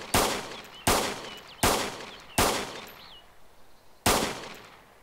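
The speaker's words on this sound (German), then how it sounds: "Ich schieße, Achtung." Five sharp gunshots fired in DayZ at an airstrip, spaced unevenly over a few seconds, each loud crack trailing off into a short echoing decay.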